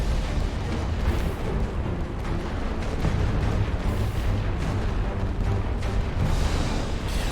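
A massed artillery barrage in The Great War: Western Front, with continuous rolling booms and thuds from many guns blending into a steady, loud roar with no pauses.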